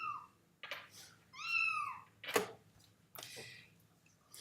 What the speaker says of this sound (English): Kitten meows.